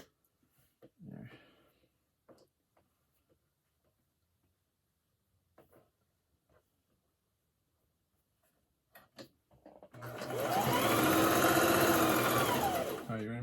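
A sewing machine stitching a fabric mask hood starts after a stretch of quiet handling noises and a few soft words, then runs in one steady, loud continuous whir to the end.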